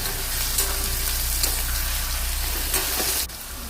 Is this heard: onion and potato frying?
yes